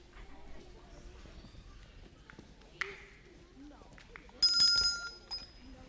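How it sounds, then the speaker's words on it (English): A bell rings brightly for about a second in a stage production of The Wizard of Oz, heard in a hall after faint shuffling and footsteps. "Ring the bell, Dorothy."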